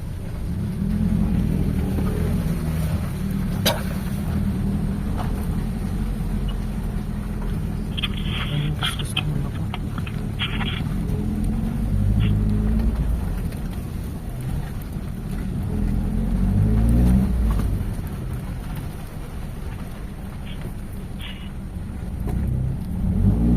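Mitsubishi 4G92 car engine with a fault that makes it stall when the gas pedal is released, a deep steady idle rumble swelling with occasional revs, with someone talking over it.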